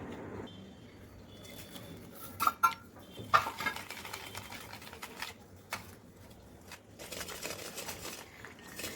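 Jaggery melting in ghee in a pot for modak and laddu, stirred with a utensil that scrapes and clinks against the metal in a few sharp taps, over a faint, steady background hum.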